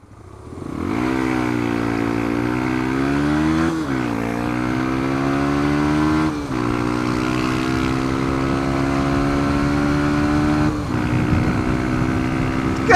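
A motorcycle racing a 1.2 Corsa, its engine loud and close as it revs up through the gears, each upshift dropping the pitch before it climbs again.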